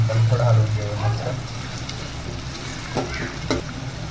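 Frying onion and tomato being stirred in a pan for Kolhapuri chicken rassa, a close, gentle sizzle with scraping and stirring knocks, and a voice briefly heard at the start.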